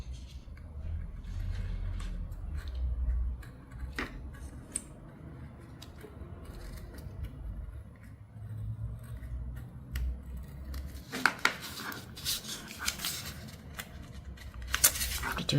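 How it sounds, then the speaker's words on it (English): A knife cuts around tape during a quilting block project, with faint, quiet scraping and snipping strokes in short bursts, growing sharper and busier near the end. "you can either cut around the tape with scissors or use a knife like this. I find the knife much more exact"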